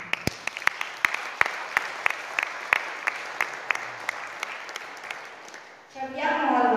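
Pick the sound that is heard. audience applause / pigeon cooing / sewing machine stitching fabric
audience applause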